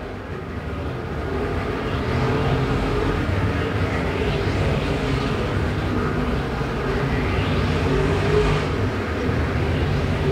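IMCA Modified race cars running in a pack on a dirt track at Perris, a loud, steady roar of many engines that swells after the first second and holds without a break, with no talk over it.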